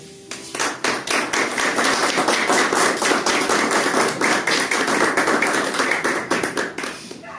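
A church congregation claps steadily in a dense, continuous rhythm, many hands together and fairly close, with no talk over it.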